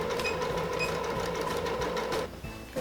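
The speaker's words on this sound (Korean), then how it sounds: "바늘로 위치를 잡아주신 다음에 표시된 선을 따라 봉제를 해볼게요." A sewing machine runs steadily, stitching fabric along a marked diagonal line to join bias strips, a close, even mechanical whir with rhythmic needle clatter that stops abruptly near the end.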